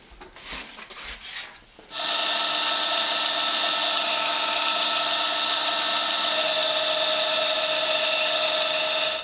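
A belt sander running a 400 grit belt grinds a folding knife, a loud steady rasping whine that starts abruptly after a couple of seconds of quieter handling noise and holds continuously to the end.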